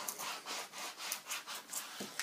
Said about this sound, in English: rub the decal. Rub it all over